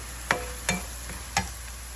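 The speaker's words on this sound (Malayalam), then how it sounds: "പയറും കൂടെ ഇട്ട് ഇളക്കി" Long beans stir-fry in a pan with cumin, garlic and asafoetida. Three sharp spatula knocks and scrapes land about half a second apart over a faint, steady hiss.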